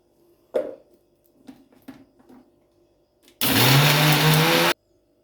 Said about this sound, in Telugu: సరిపడా చూడండి మిక్సీ కొట్టేసుకుందాము